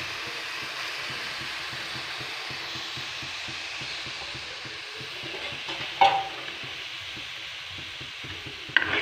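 Onion and ground fish paste frying in a pan while being stirred, a steady soft sizzle running throughout with a couple of sharper scraping clinks near the middle and end.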